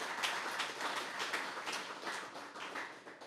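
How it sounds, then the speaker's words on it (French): Faint applause from an audience welcoming a speaker at a talk, steady scattered clapping that sounds distant and soft throughout. "Sur vos applaudissements"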